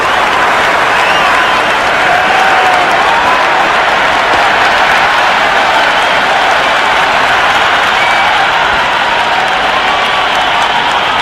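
Stadium crowd in the Cricket 26 game during an India vs South Africa T20 match, sustained dense applause and cheering, loud and continuous throughout.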